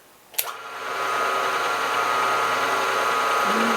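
A machine spindle fitted with a newly installed R8 arbor chuck starts with a click and spins up to a steady, loud, even whine that holds without change.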